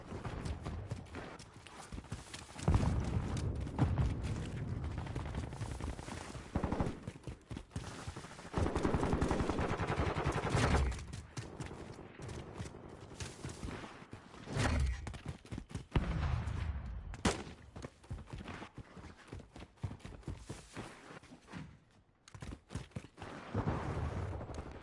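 Assault rifle fire in the Modern Warfare II beta, with loud sustained automatic bursts and scattered single shots across the clip, sometimes dense and overlapping, and no talk.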